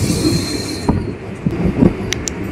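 Narasapur to Guntur passenger train departing, with a low rolling rumble of wagons, a few clanks and thuds, and high wheel squeals cutting in toward the end.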